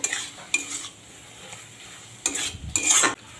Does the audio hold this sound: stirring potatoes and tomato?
yes